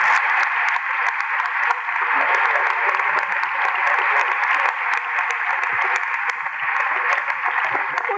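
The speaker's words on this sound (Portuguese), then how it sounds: "Vamos aplaudir." Audience applause at a university honorary doctorate ceremony, a dense, sustained patter of many hands clapping at steady loudness, heard from within the hall with no speech over it.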